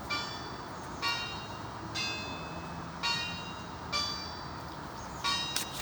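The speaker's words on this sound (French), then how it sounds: "ils sont un peu chiants avec leurs cloches là." Church bells ring in regular strokes roughly once a second, distant and moderately loud over a constant background wash of outdoor noise.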